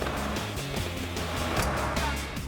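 A forklift engine drones and labors continuously with a low rumbling strain, loud and close, no pauses throughout.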